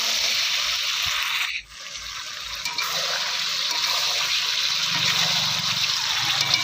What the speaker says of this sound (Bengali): এখানে পরিমাণ মতো আমি জল দিয়ে দেবো